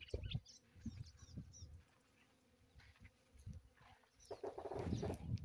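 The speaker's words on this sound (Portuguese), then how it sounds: "E aí, as abelhas estão fazendo a festa." Bees swarm around a flowering jurema preta tree in the Pernambuco sertão, their buzzing a steady low hum close by that swells louder toward the end, with a few faint bird chirps in the background.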